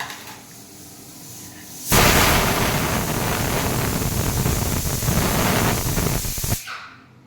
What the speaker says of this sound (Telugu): కుక్కర్ సౌండ్ మళ్ళీ వస్తుంది